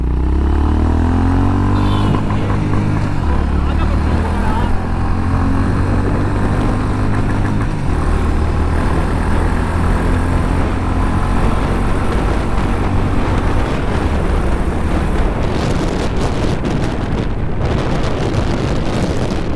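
A Honda CB 350RS motorcycle accelerates toward top speed, its engine droning loudly and steadily through the gears under heavy, constant wind roar from close riding.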